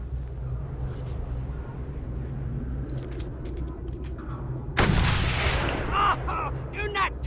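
A single loud gunshot fired at a marksman in the video game Mad Max cracks out partway through over a low, constant engine rumble, followed by a decaying echo and some faint game sounds.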